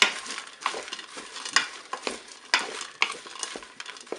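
Sautéed potatoes stirred in a Cookeo multicooker pot, a run of repeated scraping and clattering strokes over a light sizzle, close and fairly busy.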